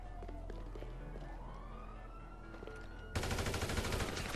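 Rapid burst of automatic gunfire in GTA Online, erupting loudly near the end after a stretch of police sirens wailing and rising in the background, with the shots coming in quick, dense succession.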